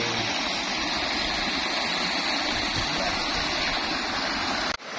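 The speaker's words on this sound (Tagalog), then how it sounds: "ang ganda po ng falls dito guys" Sampaloc Falls in Bolinao pours in a loud, steady rush of falling water that fills the whole scene evenly and close by, with no voices over it.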